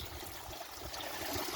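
Steady, soft splashing from pond water pouring off a filter on a fountain, along a spillway and into a bucket filter, a constant nearby trickle heard alone.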